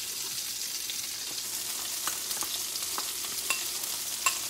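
Squeezed garlic sizzles in a frying pan, a steady close hiss of frying with a few light stirring clicks and scrapes, no voices.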